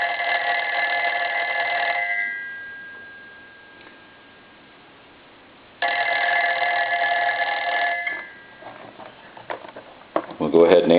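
A Western Electric 354 wall telephone's mechanical bell rings in two long, loud, steady bursts separated by a quiet pause, followed by the clatter of the handset being picked up.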